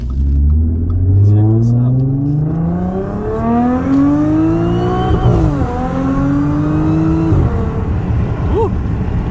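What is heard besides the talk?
2013 Audi S4 with APR dual pulley accelerating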